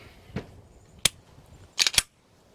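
Sharp, close mechanical clicks from a Walther P99 pistol being dry-fired: one single snap, then a quick pair of clicks, separated by near silence.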